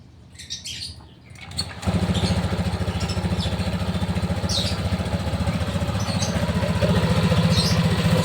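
A Honda ADV scooter with a modified CVT, an aftermarket Euro Griffin primary gear and pulley, starts up after a few clicks and settles into a loud, steady idle with a rapid, even engine pulse.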